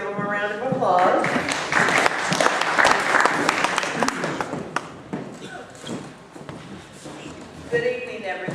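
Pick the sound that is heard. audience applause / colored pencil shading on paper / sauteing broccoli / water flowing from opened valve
audience applause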